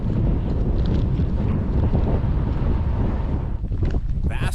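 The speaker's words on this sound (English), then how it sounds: "it's very windy right now" Strong wind buffets the microphone in a continuous loud roar with low rumbling gusts, easing briefly near the end.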